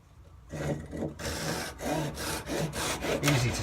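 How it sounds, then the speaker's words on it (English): A pull saw cutting through a wooden dowel: after a quiet start, a series of quick rhythmic rasping strokes, close and moderately loud, with no talking. "it cuts dowel really well and really fine, really quickly"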